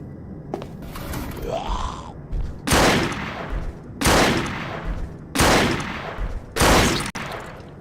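Four loud, evenly spaced gunshots ring out close in an indie shooter game demo, each a sharp broadband crack with a short tail, after a softer rising mechanical whine and groan at the start.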